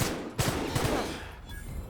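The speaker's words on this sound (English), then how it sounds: "Wow, you can really shoot this thing fast." Rapid bursts of gunfire from a fast-firing weapon in The Outer Worlds, loud and close, several quick shots blending into a dense roar that trails off into rumbling ambience.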